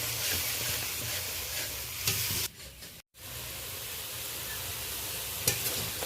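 Ground spice paste being stir-fried in oil for a live catfish curry, a steady close sizzle with stirring scrapes, briefly cut to near silence midway before the frying resumes, no talking.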